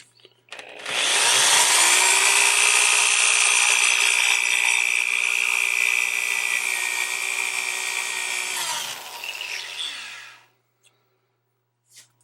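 Power drill grinding into a lock with a loud, sustained high-pitched whine for about nine seconds, holding steady before cutting off, then near silence with a faint click.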